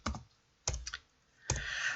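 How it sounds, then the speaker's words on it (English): Quiet typing on a computer keyboard in an office setting, three short bursts of clicky keystrokes with brief pauses between them, close and alone. "I would then type that in"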